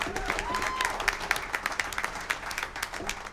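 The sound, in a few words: audience applause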